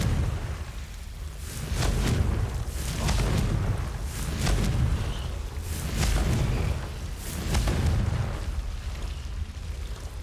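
Confringo explosive spell cast repeatedly in Hogwarts Legacy, several booming magical blasts with bright crackling bursts recurring every second or two over a low rumbling game background.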